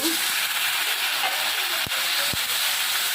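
Water poured into a hot pan of spices with dried red chilli and chilli powder gives a steady close hiss of steam and sizzle, loud and continuous, with two brief knocks.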